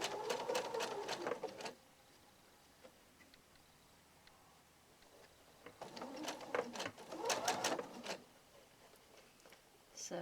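A sewing machine runs through bursts of stitching on seams of a parasol cover, folded over through four layers of fabric. Two clusters of rapid mechanical chatter are separated by a quiet pause, with a short restart at the end.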